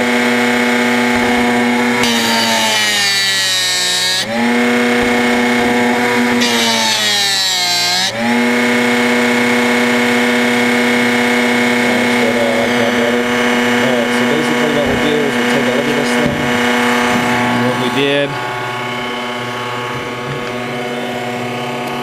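A Drill Doctor bit sharpener grinds a drill bit with a loud, steady motor whine, broken by repeated swelling, wavering grinding passes as the bit is worked against the wheel, continuing nearly unbroken throughout.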